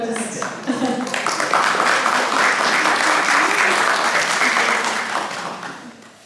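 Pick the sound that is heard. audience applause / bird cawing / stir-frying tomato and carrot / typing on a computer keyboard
audience applause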